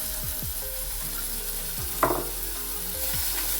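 Tomato masala sizzles steadily in a pan for masala bhindi, a constant frying hiss broken by a few soft stirring scrapes and one brief clatter near the middle.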